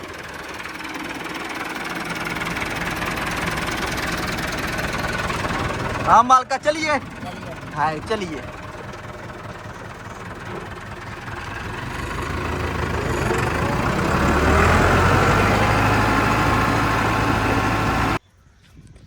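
A tractor engine runs continuously while someone speaks briefly over it, and the engine swells louder toward the end before cutting off abruptly.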